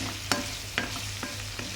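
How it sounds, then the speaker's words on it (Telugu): Prawns frying in a pan, a soft steady sizzle broken by several sharp scrapes and taps of a spatula being stirred through, close and with no talking. "సో ఇప్పుడు మనం ఏమైనా కూడా మంచిగా ఫ్రై చేసుకోవాలి అంతే"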